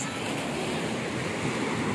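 Sea waves wash onto a beach in Mindanao, a continuous close rush of surf with steady wind-blown hiss and no pauses.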